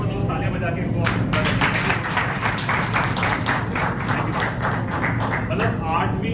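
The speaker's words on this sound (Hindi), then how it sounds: "एक बार तालियां बजा के" An audience at an open mic show in Mathura claps in a steady burst of applause lasting several seconds, dense and fairly loud, with talk underneath.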